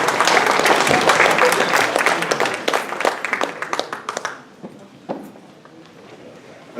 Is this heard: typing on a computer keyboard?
no